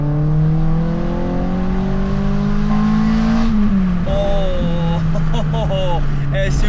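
A Toyota Matrix XRS with an Exedy clutch drones steadily while driving, then lifts off the throttle and the engine note drops into a light burble with small pops, fairly loud and close inside the cabin.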